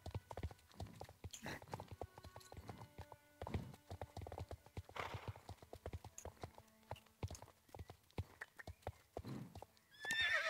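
A horse in the game Star Stable Online, its hooves clip-clopping in a steady walking rhythm with several whinnies and neighs, close and fairly loud.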